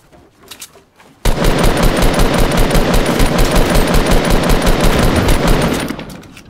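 Rapid automatic gunfire in the Fortnite Battle Royale video game, one long loud continuous burst of shots that starts abruptly after a quiet moment and runs for about five seconds before fading.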